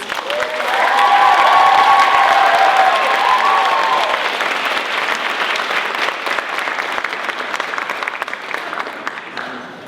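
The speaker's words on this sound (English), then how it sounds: "Let's have another round of applause." Sustained audience applause fills a school theatre on its closing night, loud and dense with a few cheers, swelling early and then slowly thinning out toward the end.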